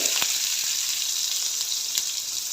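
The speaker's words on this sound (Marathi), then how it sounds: "तोही सोनेरी रंग येईपर्यंत परतून घ्यायचा आहे तेलावर" Finely chopped onion fries in hot oil with bay leaves, a dense, close, continuous sizzle with a couple of sharp spatula clicks and no talk.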